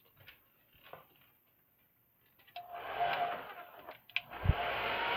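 A hair dryer starts after a few quiet taps and handling noises, then blows with a loud, steady whooshing roar while drying paint on an art journal cover, with brief clicks and bumps over it.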